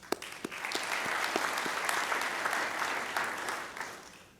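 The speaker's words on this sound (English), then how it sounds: "give them a round of applause as well" Audience applause at a police chief's swearing-in ceremony, a steady crowd of clapping hands with distinct close claps popping out, swelling then gradually tapering off.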